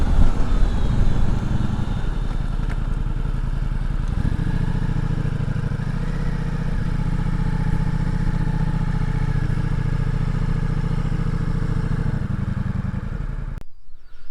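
A 2021 Ducati Multistrada V4 S rumbles steadily and close while ridden, its engine note settling lower as the bike slows to pull over, then cutting off abruptly near the end.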